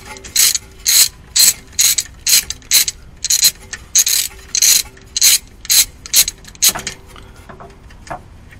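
Ratchet wrench loosening a 12 mm bolt on the brake of a Subaru WRX STI during a brake line replacement, giving a rapid series of loud, close clicking bursts in an uneven rhythm, slowing toward the end.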